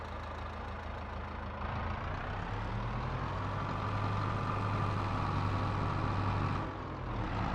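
Semi truck engine in Farming Simulator 22, a steady close diesel drone that rises slightly as it pulls away, with a brief dip near the end, no voices.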